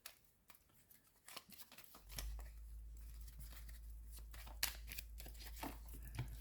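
Tarot cards are laid down on a table during a reading: a string of crisp paper snaps and flicks over a steady low hum, with no voices.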